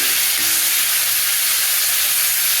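Water pours into a hot pan of seasoned carrot stir-fry with chili powder and salt, setting off a loud, steady hiss of steam and sizzle that fills the whole stretch without pause.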